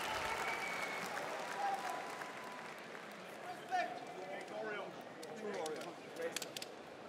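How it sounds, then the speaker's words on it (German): A crowd at an OKTAGON 37 MMA event applauds a fighter with steady, dense clapping and cheering from the arena audience. Voices carry over it throughout, with a few louder bursts partway through. "Potlesk pro něj."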